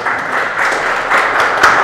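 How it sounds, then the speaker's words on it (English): A seminar audience on financial literacy bursts into applause, a steady wash of many hands clapping at close range that holds for about two seconds with no voices on top. "Let's give him a round of applause."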